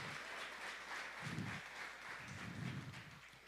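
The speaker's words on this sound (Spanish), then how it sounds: "Si vas a aplaudir, apláudele al Rey" A church congregation applauds continuously, a dense wash of clapping at moderate distance with a couple of low thumps underneath.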